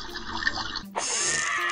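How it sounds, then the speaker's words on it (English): Water splashes and pours onto a plant in the Piiig Labs iPad app, a short gush followed by a steady running stream, close and fairly loud. "More water, quick."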